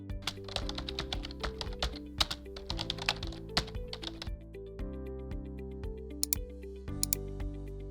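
Typing on a computer keyboard as a ticket title is entered in a help desk app, a rapid clatter of close key taps in uneven bursts that thins to sparse clicks toward the end.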